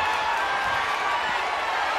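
A wrestling video game crowd in WWE style cheers on its feet as a broad, steady roar at moderate level, with no break in the noise.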